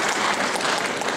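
An audience at a children's book theatre performance claps in a dense, steady wash of applause, loud and continuous throughout the short burst.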